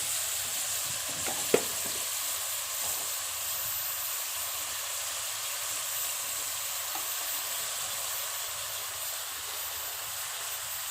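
Chicken pieces fry in a pan for an aloo chicken salan, giving a soft, steady sizzle and hiss that runs throughout with one brief clatter near the start; no one speaks.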